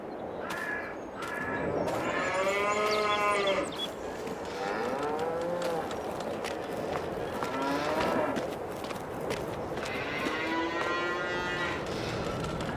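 Cattle in Farming Simulator 22 low repeatedly in a farmyard, several overlapping moos rising and falling over a constant outdoor background, fairly loud and with nobody speaking.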